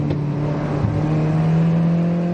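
Steady engine drone from an Alfa Romeo 4C Spider's 1.7-litre turbocharged four-cylinder petrol unit, a continuous loud hum with a slight pitch shift partway through, with no talking.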